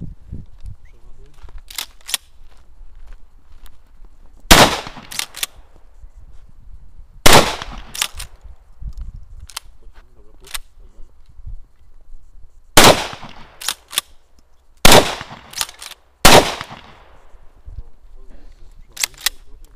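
Smoothbore shotgun shots at an outdoor shooting competition, several loud, sharp blasts spaced a few seconds apart, some in quick pairs, with brief quiet talk between.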